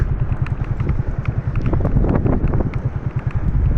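Light morning wind blows steadily across an open hillside near Chowa Saidan Shah, a continuous low rumbling gust noise buffeting the microphone throughout with no talking.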